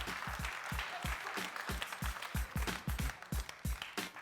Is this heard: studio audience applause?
yes